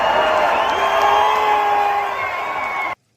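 A crowd at a live event, heard as a dense, loud roar of cheering and whooping voices that holds steady for about three seconds and then cuts off abruptly.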